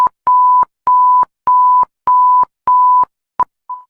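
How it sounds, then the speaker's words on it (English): France's emergency alert alarm: a loud, steady mid-pitched tone in five long evenly spaced beeps, then two short blips, like Morse code. "It sounds literally like Morse code."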